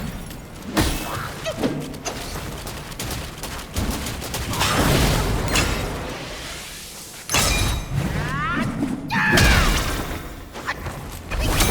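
Enemies bursting in explosions in the action game Black Myth Wukong, a dense run of loud crashing blasts and thuds, some clustered and some spaced out, with clattering combat noise between them.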